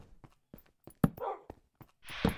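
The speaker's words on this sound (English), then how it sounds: "There's dogs everywhere." Dogs in the Minecraft modpack Hexxit give several short, sharp game barks and yelps scattered through a dark level, with a couple of longer noisy bursts and faint footstep-like taps in between.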